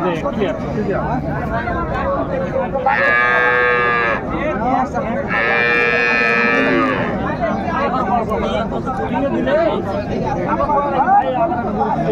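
A Sahiwal cow with her calf lets out two long, loud moos at a busy cattle market, each lasting a couple of seconds, amid steady crowd chatter and nearby voices talking.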